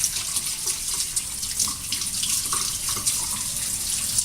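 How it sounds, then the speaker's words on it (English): Tap water pours steadily into a kitchen sink while fingers are rinsed under it, a close, continuous splashing hiss with small shifts as the hands move through the stream. "let me wash off my fingers here"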